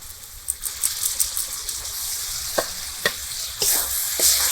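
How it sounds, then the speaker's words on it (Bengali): Coriander spice paste fries in a pan while being stirred, a steady soft sizzle broken by scraping clicks of the spoon, close and moderately quiet with no voices. "মশলাটাকে কিন্তু এই পর্যায়ে খুব ভালো করে ভেজে নিতে হবে"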